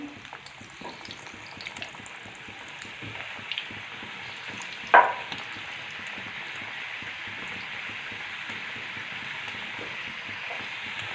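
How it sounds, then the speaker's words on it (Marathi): Sweet fried modaks bubble in a pan of hot oil, a soft continuous crackling sizzle with scattered pops and one sharp clink near the middle, no voices. "आता अशा प्रकारे मी सगळे मोदक आहे ना मस्त असे खरपूस रंगावरती तळून घेणार आहे"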